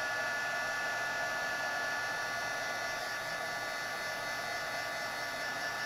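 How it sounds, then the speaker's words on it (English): A heat gun blows steadily during heat embossing, a constant close whooshing whine like a hair dryer that holds level the whole time, with no talking. "I'm just heat embossing here."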